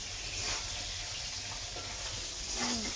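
Rice dry-fried in a pan makes a faint, continuous rustling sizzle with a low background hum, steady and quiet throughout.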